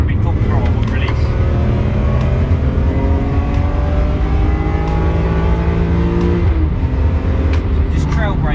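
BMW E46 M3 engine pulling hard at full throttle around the Brands Hatch GP circuit, a loud, steady, rising in-car drone with a driving instructor talking over it throughout.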